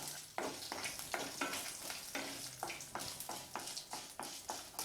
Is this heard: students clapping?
no